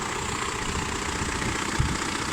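A car engine idling steadily after repair while it warms up and runs in, with a continuous, even hum, close by and fairly quiet. No knocks or rattles stand out, and one brief low thump appears near the end.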